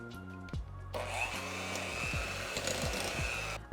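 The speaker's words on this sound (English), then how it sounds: "All right, and now let's mix this all together." Electric hand mixer whirring through cheesecake batter with vanilla extract and an egg, a steady loud motor drone that starts after a few brief clanks and runs continuously with slight changes in pitch.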